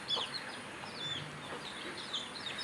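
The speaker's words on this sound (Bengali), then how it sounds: "আর যেন মুরগি চলে আসছে একটা, বড় মুরগিটা" Chickens, including a large hen, cluck softly while feeding, with short chirpy calls scattered over a faint outdoor background.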